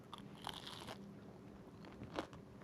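Crispy vegan mac and cheese bites being bitten into, giving two short crunchy bites, close and fairly quiet, with soft chewing between them and no talk.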